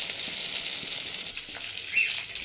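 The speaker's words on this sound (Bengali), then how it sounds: "দেখুন কাতলা মাছগুলো কেটে নুন হলুদ মাখিয়ে ভাজা হচ্ছে।" Pieces of katla fish, rubbed with salt and turmeric, fry in hot oil, giving a close, continuous sizzling hiss with small crackles throughout.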